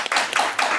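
Audience applause for an entrepreneur after a startup pitch on ocean technology, a dense wash of clapping swelling in three short surges, moderately loud with no voices.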